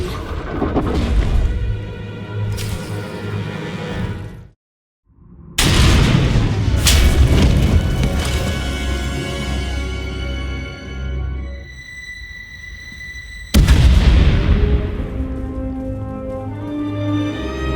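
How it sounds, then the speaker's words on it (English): Booming explosions in Star Wars: The Old Republic, deep and loud, one after another with rumbling decays, a sudden cut to near silence, then another heavy blast. "We heard explosions."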